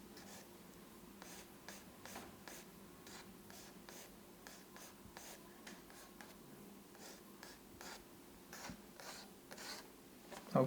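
Pencil sketching repeated short strokes on paper during a figure drawing session, a steady series of soft, close scratchy strokes in quick rhythm over faint room hum.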